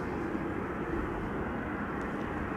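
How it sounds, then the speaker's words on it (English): A Tarom Boeing 737-800 airliner arriving from Bucharest comes in at Amsterdam Schiphol Airport, heard as a steady, muffled jet roar of moderate loudness that stays constant for a couple of seconds without any voices. "737-800, arriving from Bucharest"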